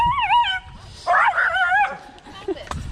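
A cartoonish video-game dog voice whines and yips in a few wavering, pitch-bending bursts, with a short pause between them and faint chatter underneath.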